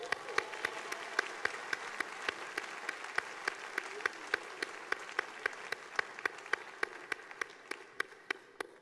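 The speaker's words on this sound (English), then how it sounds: "Let's give them another round of applause." Audience applause at the Gospel Music Hall of Fame ceremony, a dense, steady wash of many hands with one sharp rhythmic clap standing out on a regular beat throughout.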